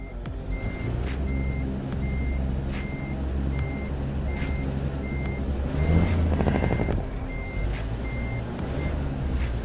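A heavy truck in American Truck Simulator, a custom Haterbilt mod, backs up with a steady run of evenly spaced reversing beeps over a loud, continuous engine rumble, with air-brake hiss partway through.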